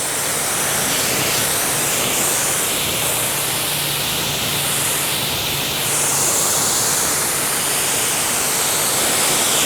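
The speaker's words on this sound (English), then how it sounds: "Look at that water output right there." Steady, loud rush of spraying water, a continuous broadband hiss with no breaks, close by and running alone without talk.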